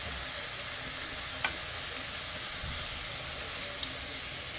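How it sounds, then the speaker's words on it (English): Bacon sizzles in a nonstick pan, a soft but continuous crackling hiss heard close by, with a couple of small clicks and no talk over it. "And I'll just cook this whole package of bacon up."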